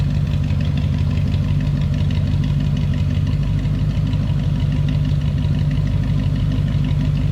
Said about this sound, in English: Let me let you hear how this flatty sounds